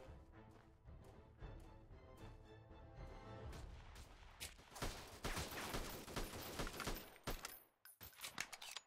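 A grenade explodes in the guerrilla-warfare shooter Freeman: Guerrilla Warfare, a heavy boom amid dense bursts of rifle and machine-gun fire that crackle through the whole stretch and end in a few sharp final shots.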